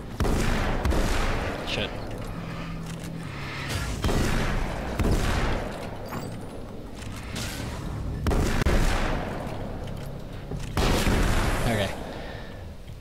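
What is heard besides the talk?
sawed-off shotgun firing in video game Alan Wake's American Nightmare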